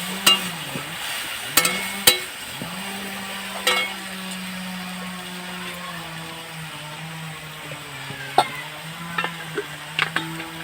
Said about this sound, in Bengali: এই মশলাগুলো এর মধ্যে দিয়ে নাড়াচাড়া করে অল্প একটু জল দিয়ে দিচ্ছি